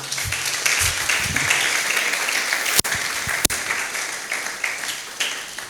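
Church congregation bursts into sustained applause, a dense wash of clapping with a couple of sharp louder claps partway through and a faint voice underneath.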